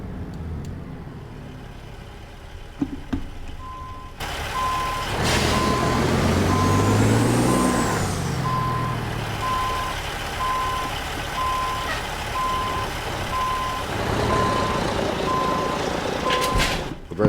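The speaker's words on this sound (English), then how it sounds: "I didn't give it enough throttle backing up, but we got her coupled" A big rig in American Truck Simulator reverses to couple a trailer, with steady evenly spaced reversing beeps over a loud rumbling diesel engine and a hiss of air brakes, ending in a couple of sharp clunks.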